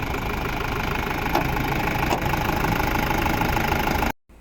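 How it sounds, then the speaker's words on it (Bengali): An old Mahindra Big Bolero pickup's 2523cc four-cylinder diesel idles close by with a steady rattling clatter and a couple of faint clicks, then cuts off abruptly near the end before a brief return of noise. "এই পিকআপটি মাহিন্দ্রার 2523 সিসির 4 সিলিন্ডারের ডিজেল চালিত ইঞ্জিন ব্যবহার করা হয়েছে। সাউন্ড শুনুন ইঞ্জিনের।"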